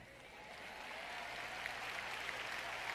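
Steady applause from a church congregation during a French-language sermon, a dense even wash of clapping held at a moderate, somewhat distant level for the whole stretch.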